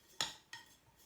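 Two short clinks of a tool against a glass container as glass paint is stirred and mixed toward a single-cream consistency, close and fairly quiet, with no talk.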